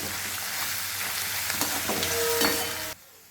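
Garlic roasting in hot oil for crispy chivda gives a steady, dense sizzle with a few stirring scrapes, loud and close, before cutting off abruptly near the end.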